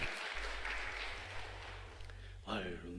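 A church congregation applauds in praise during a service, a broad wash of clapping heard from a distance, with a voice breaking in near the end.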